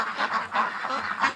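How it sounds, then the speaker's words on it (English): Several ducks quack and honk together in a farmyard at night, a close, busy run of overlapping nasal calls in quick uneven bursts. "Come on, ducks, let's go."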